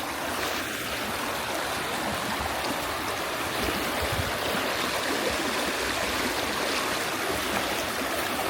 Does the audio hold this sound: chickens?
no